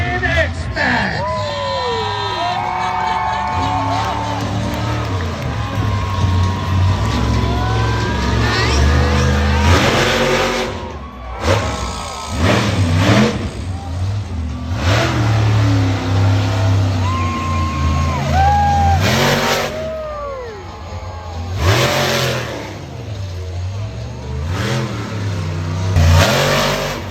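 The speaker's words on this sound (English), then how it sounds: "This was an older monster truck." An older monster truck named X-Max, driven by Dave Tucker, revs its engine at a night show on the Indio, California fairgrounds, with repeated loud surging roars and drops, while a crowd murmurs and an announcer talks over it.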